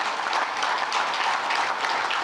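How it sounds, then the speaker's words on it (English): An indoor audience at an alumni awards ceremony gives a brief, steady round of applause, dense clapping with no voices over it. "round of applause"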